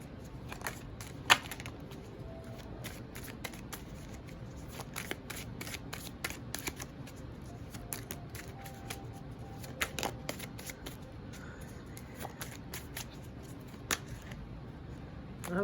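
Tarot cards being shuffled by hand, a dense stream of soft riffling flicks with occasional sharper snaps, fairly quiet and close, with no talking.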